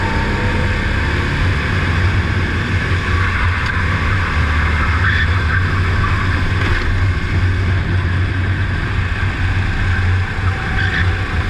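Karts racing in a Kart-Max championship round at Brignoles, a continuous loud engine drone with wind rush close by, steady throughout with no talking.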